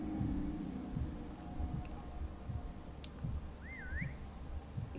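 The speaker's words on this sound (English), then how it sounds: "she's still whistling at that" In the video game Sable, a character whistles a short, faint, wavering tune. It sits over a dull, rumbling ambient background with a few soft ticks, and there is no talking.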